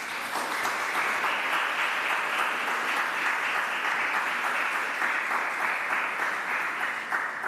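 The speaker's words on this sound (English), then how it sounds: "I would ask you and invite you to applaud them." A large audience gives sustained, even applause during the investiture ceremony of Jamaica's Poet Laureate. Dense, loud clapping carries through the whole stretch without letting up, and no voices break through.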